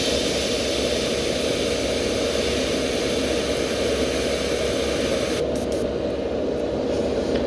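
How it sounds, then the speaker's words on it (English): An airbrush sprays paint onto a fishing lure with a steady, close hiss of air, continuous and unbroken, with the high hiss cutting out briefly near the end. "How I'm always cleaning off the tip of my airbrush?"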